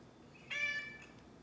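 One clear, close cat meow, a short tonal call lasting under half a second, rising out of a quiet background.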